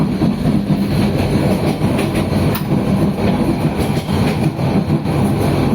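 A train running near Laksam station in rural Bangladesh, heard as a loud, continuous rumble with a rhythmic clatter of wheels on the rails, close and steady throughout.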